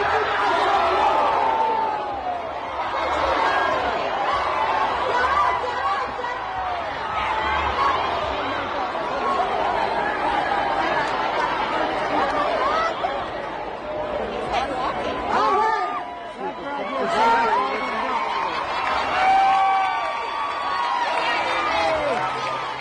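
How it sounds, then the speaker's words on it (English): A panicked crowd at the Strathmore Stampede rodeo shouts and babbles in the background, with agitated voices rising and falling throughout and occasional sharp cries and bangs, fairly distant and muffled. "You can even hear the panic of the crowd in the background."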